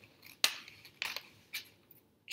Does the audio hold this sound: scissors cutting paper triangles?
yes